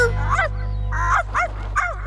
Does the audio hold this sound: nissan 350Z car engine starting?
no